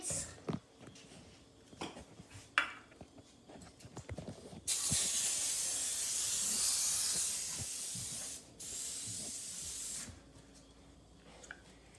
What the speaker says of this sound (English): Okay, so now I'm going to spray the pan.